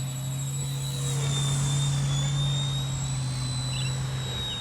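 An RC Era C138 PRO brushless RC helicopter flies outdoors, producing a steady, sustained motor whine and rotor hum with shifting pitch as it passes at moderate distance, loud and continuous, with no voices.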